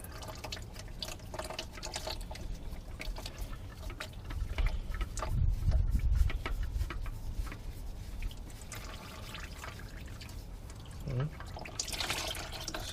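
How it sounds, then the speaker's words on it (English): Motor oil drains and drips from the oil filter housing of an Infiniti G37 during an oil change, a steady close trickle with scattered drips, moderately loud, while a person talks. "You just let it drain. Just watch the oil as it's coming out, because sometimes it does drip"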